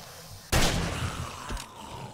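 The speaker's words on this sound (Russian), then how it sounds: "Меткий выстрел." A single sharp gunshot blasts in the zombie survival game 7 Days to Die Alpha 19, set inside a supermarket at night, with a short decaying tail and a fainter thump following.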